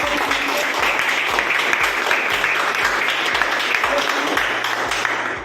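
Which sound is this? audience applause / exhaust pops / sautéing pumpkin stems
audience applause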